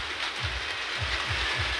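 Steady rainfall hissing evenly and fairly softly, with a few low dull thumps in the background and no voices.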